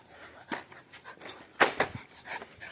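A dog gives several short yelps and whimpering barks, scattered and moderately close, with no talk over them.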